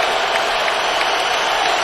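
Steady roar of a stadium crowd cheering at a Bears vs Colts NFL football game in Indianapolis, a loud, even wash of noise without distinct breaks.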